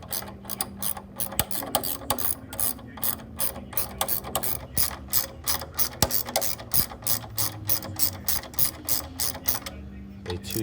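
A ratchet wrench with a 14 mm socket backing out a Loctite-treated crank arm bolt on an indoor cycle, producing loud, rapid, steady clicking close up that runs throughout with no talk.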